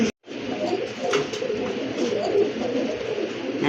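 A male pigeon coos steadily nearby, a low rolling warble that keeps going after a brief quiet start, with faint handling noise behind it.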